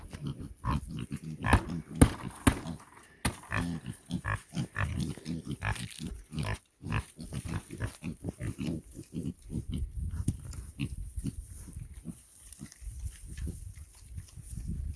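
Pigs on a high-desert homestead grunt and snuffle repeatedly at close range, a dense run of short rough grunts and squeals lasting throughout with no talk.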